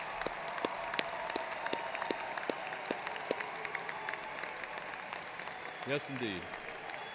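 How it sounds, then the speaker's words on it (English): Faint, scattered clapping from a commencement audience honoring graduate school graduates, with distinct claps early on thinning out, distant and soft, while a voice speaks briefly near the end. "let us acknowledge the accomplishments of these distinguished graduates with a hearty round of applause"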